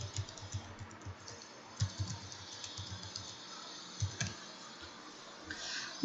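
Someone types on a computer keyboard in steady runs of close, soft key taps with brief pauses and a few louder strikes, while writing a blog post during a JMeter scripting session.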